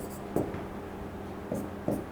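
A marker or chalk scratches out a few short strokes on a board, soft and close, with quiet pauses between the strokes.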